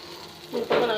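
Sliced brinjal (eggplant) frying in oil in a pan gives a soft hiss that swells into a brighter sizzle partway through the short burst.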